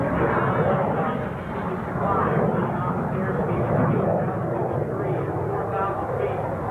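A T-33 jet flies an aerobatic demonstration at a 1995 air show in Clark County, Indiana, its engine a loud, steady, broad roar that holds for the whole stretch, with a voice faintly audible underneath.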